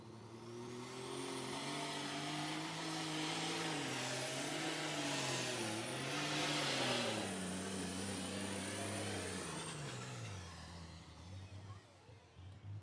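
Lightweight super stock pulling tractor with a brand new Deere engine at an outlaw tractor pull in Wisner, Nebraska, a loud sustained roaring engine with a high whine that rises and wavers, then drops away near the end.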